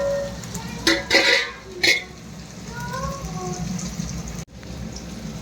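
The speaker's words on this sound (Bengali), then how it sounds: "রসুন সব কিছু এখন এবারে ভেজে নিই" Garlic and other ingredients frying in a pan for homemade chilli chicken, producing a steady crackling sizzle with a few louder scrapes of stirring, close by, as a voice speaks over it.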